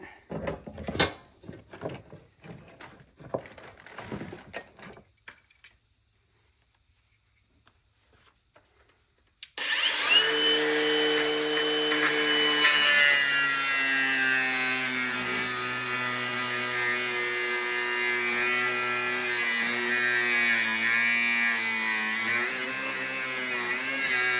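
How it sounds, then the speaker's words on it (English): Angle grinder with a grinding wheel cutting hard, seized steel, starting after a quiet pause with a loud, steady high-pitched whine that holds for about fifteen seconds, preceded by clattering tool handling. "Try the grinder."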